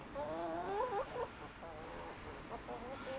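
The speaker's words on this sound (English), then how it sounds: "There's a chicken right behind you." A chicken clucks nearby in a few short, wavering calls, with soft background noise around it on a farm property.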